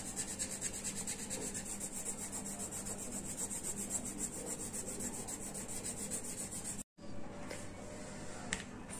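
Brown and yellow crayons rub on workbook paper in a steady, quiet scratching that runs almost without a break, stopping briefly once near the end.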